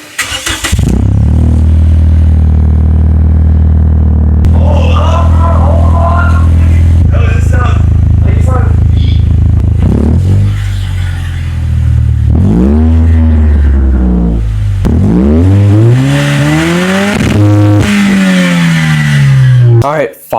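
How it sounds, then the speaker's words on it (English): A loud, raw car engine with no mufflers, a Lexus IS, idles roughly, then revs up and down in repeated rising and falling bursts, close by. "I'm gonna turn it on with no mufflers at all,"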